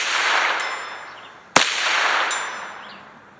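A single sharp crack from a Ruger 10/22 rifle, fitted with a BSA Sweet 22 scope, fired at a steel plate 150 yards out. It cuts through a steady wash of outdoor hiss before fading.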